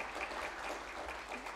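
Audience at a leadership panel on climate finance applauding the panelists, a steady dense patter of many hands, faint and distant, continuous for the whole moment with no break.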